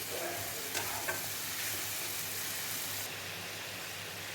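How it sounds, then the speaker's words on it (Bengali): Spice masala frying in oil for bhetki fish, a loud, steady close sizzle with a couple of light stirring taps early on, the hiss easing slightly partway through, no talking. "মশলা কষানো হয়ে গিয়ে তেল ছেড়ে গেছে মশলা থেকে"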